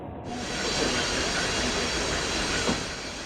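A passenger train rolls steadily across the border from Ukraine, a continuous close rumble and hiss of the carriage in motion with a faint clack near the end, no voices.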